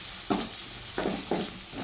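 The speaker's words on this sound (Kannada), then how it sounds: "ಚೆನ್ನಾಗಿ ಒಗ್ಗರಣೆ ಡೀಪಾಗಿ ಫ್ರೈ ಮಾಡಬೇಕು." Spices sizzle as they temper in deep hot oil for a village-style Karnataka lentil sambar, a steady hiss broken by three short stirring scrapes.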